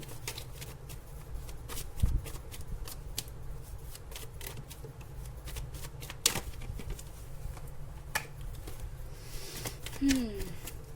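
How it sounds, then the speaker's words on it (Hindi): Tarot cards are shuffled by hand in a long run of soft riffling and flicking, with brief louder slaps scattered throughout, close and moderately quiet over a faint room hum. "शफल नहीं हुआ था, शफल तो होने दो भाई।"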